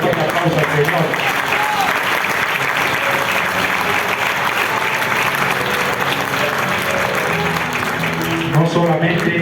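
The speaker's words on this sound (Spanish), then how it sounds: "Denle un fuerte aplauso al Señor." Congregation in a church breaking into loud, sustained applause, a dense wall of clapping lasting the whole stretch, with voices and cheers mixed in throughout.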